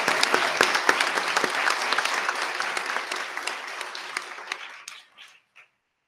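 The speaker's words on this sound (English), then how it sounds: "if we could have a nice round of applause for all of our teachers receiving tenure this evening" Clapping from a Board of Education meeting audience honoring teachers receiving tenure, a lively round of many hands with some crisp nearby claps, tapering off and ending with a few last scattered claps.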